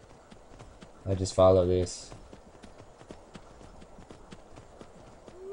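Horse hooves clip-clop steadily on a road in the video game Skyrim, a soft, even rhythm running through the whole stretch, with someone speaking briefly over it.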